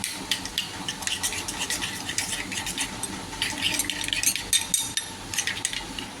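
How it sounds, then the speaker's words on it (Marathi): A spoon stirs red chili powder into a fasting-style kachori filling made with ground peanuts, scraping and clinking steadily against a metal bowl with soft gritty rustling. "थोडंसं असं लाल तिखट टाकायचं, मिक्स करून घ्यायचं."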